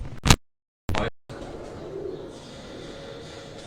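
Large Zeera Plus breed pigeons cooing close by in two brief bursts, followed by a low steady background murmur.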